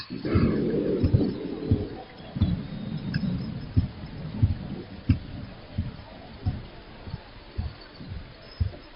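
Rain falls in a steady broadband wash throughout, with repeated low rumbling thuds pulsing through it, fairly loud and close, no clear voices.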